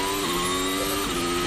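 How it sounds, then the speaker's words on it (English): Mick Schumacher's Haas Formula 1 car running on the street circuit at Baku during Azerbaijan Grand Prix practice, a steady high-pitched engine whine held throughout, heard at a distance with no talk over it. "the sound you can hear then is Mick Schumacher in his Haas out on the circuit"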